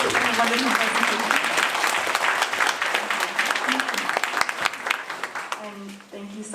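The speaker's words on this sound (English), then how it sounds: "Can we get another round of applause?" An audience at a caregiving presentation applauds steadily and loudly, a dense wash of clapping that thins toward the end as a voice begins speaking over it.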